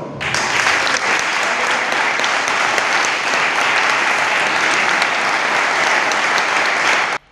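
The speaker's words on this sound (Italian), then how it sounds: "ha ricevuto un lungo applauso durante la cerimonia di presentazione svoltasi all'interno dell'aula consiliare del comune nisseno" Long, steady audience applause fills a council hall during a ceremony presenting the new captain of the Real Maestranza, dense and sustained for about seven seconds before stopping abruptly.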